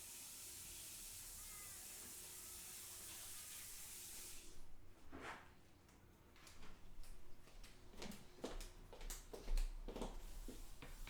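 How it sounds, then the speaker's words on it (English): Tap water runs into a kitchen sink during hand washing, a steady hiss that cuts off after about four seconds, followed by scattered clicks and knocks from the sink area. "let me just go and wash my hands"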